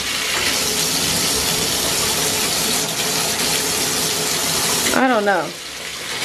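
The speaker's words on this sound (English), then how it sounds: "I don't think that water is supposed to be coming out of there." Water gushes hard and steadily from a bathtub spout under replacement, a loud close rushing stream that fills the whole stretch, with a brief voice speaking near the end as the flow briefly changes.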